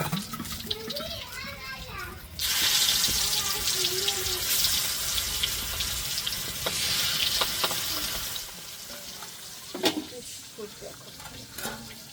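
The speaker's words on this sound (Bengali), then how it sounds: "হচ্ছে মাছ ভাজা শেষ মাছগুলো অনেক সুন্দর হয়েছে লাল লাল হয়েছে" Fish frying in a pan give off a loud, steady sizzle that starts abruptly and runs for several seconds, with people talking before and after it.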